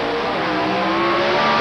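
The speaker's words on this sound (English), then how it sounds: "Motorcraft Thunderbirds going at it head to tail" Motorcraft Thunderbird drag race cars running head to tail at the 1987 IHRA Northern Nationals in Milan, Michigan, a loud, steady engine roar under full throttle with no break across the short stretch.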